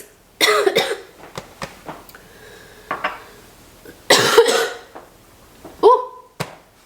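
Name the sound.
cough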